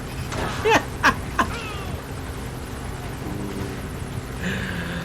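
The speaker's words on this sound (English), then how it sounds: "The only other thing we would have to worry about is the chopper up above." A helicopter hovers overhead in the video game Metal Gear Solid V: The Phantom Pain, a continuous distant rotor drone under several brief sharp game effects, with no talk.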